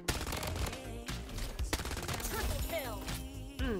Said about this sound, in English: Who is shooting me?